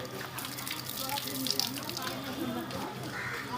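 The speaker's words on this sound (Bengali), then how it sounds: "জল ভরছে" Water runs from a tap and fills a container, a soft steady gush heard fairly close, with a voice speaking over it.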